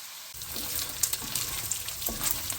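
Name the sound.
beef frying in oil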